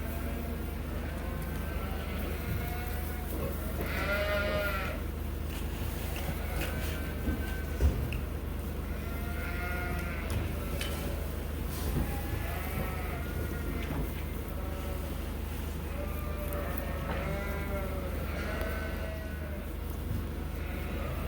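Many lambs and sheep on a sheep farm bleat at feeding time, repeated overlapping calls near and far over a constant low mechanical drone.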